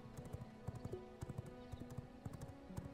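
Horse hooves clip-clop steadily at a riding pace in the vampire survival video game V Rising, a busy, rhythmic run of hoof beats over soft game ambience with no talk.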